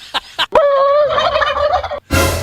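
A turkey lets out a loud, close gobble, a warbling rattle of about a second and a half, with short clucks before it and a burst of noise after.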